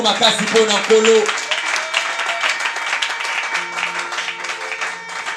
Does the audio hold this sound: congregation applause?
yes